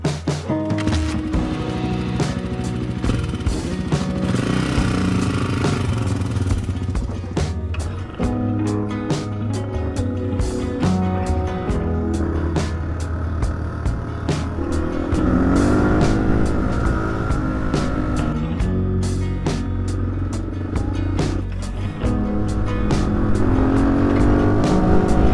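An XR400 off-road motorcycle is kick-started and ridden on mountaintop trails in Turkey, with a loud, continuous engine that rises and falls with the throttle throughout.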